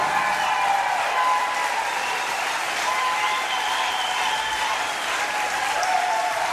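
A crowd applauds at a children's song disco show, dense continuous clapping that stays loud and even from start to finish, with a faint tonal hum running beneath it.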